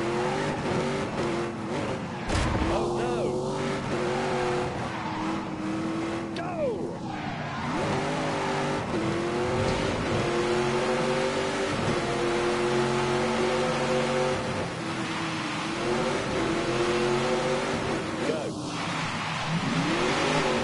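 Engine of a car in The Grand Tour video game revs at full throttle, a loud sustained roar with rising and falling pitch sweeps across repeated gear changes, with occasional tire squeal and a voice talking over it.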